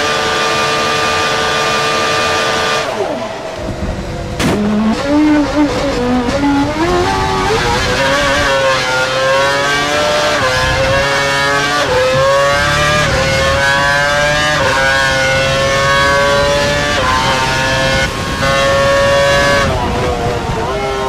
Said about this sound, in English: Car behind is running standard revs.